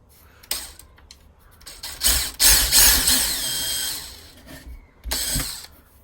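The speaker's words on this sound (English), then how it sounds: "I'm just going to pre-drill this." A power drill pre-drills a hole into timber in two bursts, whirring and grinding loudly up close, with quieter handling noises between.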